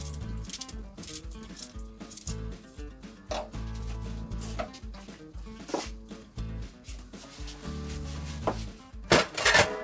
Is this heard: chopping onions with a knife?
yes